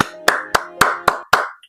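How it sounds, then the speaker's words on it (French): A single person claps six times in a slow, even rhythm, each clap sharp, close and distinct, with no voices. "Franchement, on devrait applaudir."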